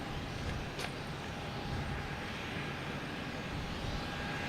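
An American Airlines Embraer E175 jet taking off from Boston Logan, bound for Philadelphia: a steady, broad engine roar held at a constant level throughout, with a faint thin whine above it.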